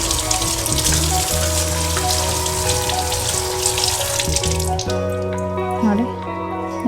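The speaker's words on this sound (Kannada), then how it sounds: "ನೀಟಾಗಿ ತೊಳೆದು ಬಿಡೋಣ" Kitchen sink tap running steadily while dishes or surfaces are washed and rinsed after baking soda cleaning, a loud continuous splash with clinks and shifting water flow.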